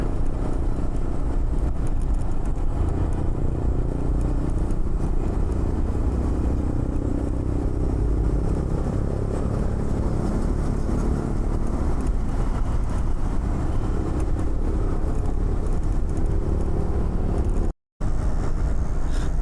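A motorcycle rides through jammed morning traffic near Thane, its engine a constant close drone mixed with the surrounding roar of cars and wind, steady throughout with one brief dropout near the end.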